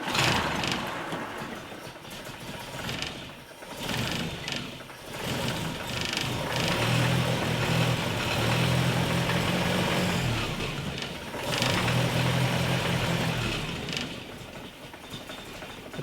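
Land Rover engine idling unevenly with the valve cover off, a rough-running rumble with rhythmic valvetrain clatter, dipping and picking up again over about sixteen seconds, close by.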